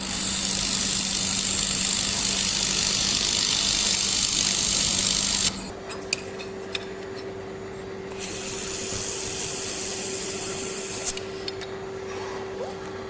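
A laser welder running a T-joint weld, a steady tonal hum with continuous hiss that drops out midway and is replaced by a different steady tone with sharp crackling bursts, then loud broadband noise returns.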